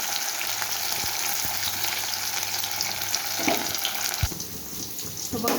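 Stuffed spiny gourd fries in a pan with a steady, bright sizzle and hiss throughout, broken by a few clicks and scrapes of a utensil and a louder clatter near the end.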